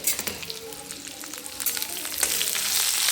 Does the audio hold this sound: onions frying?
yes